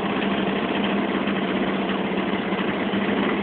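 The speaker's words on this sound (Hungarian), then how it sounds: "Elsőre vagy másodiknál egy jó robogónak el kell indulnia." A used 50cc scooter engine idles steadily, a busy buzzing putter that stays even and close for the whole stretch, heard alone without any talking.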